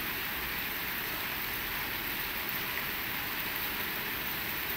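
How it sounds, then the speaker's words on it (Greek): Heavy rain pours down during a rainstorm in Athens. It is a dense, even hiss of rainfall that holds steady throughout, with no voices. "βρέχει μέχρι και αύριο το μεσημέρι"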